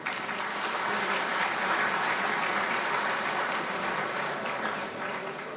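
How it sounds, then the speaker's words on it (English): A conference audience applauds the sponsors at an Economist event in Greece, a steady, dense wash of many hands clapping that holds evenly for several seconds without any voices over it. "Please, a round of applause for our sponsors."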